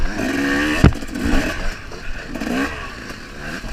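A dirt bike running rich during a race, its engine revving and wavering up and down nearby, with a sharp clatter or knock partway through.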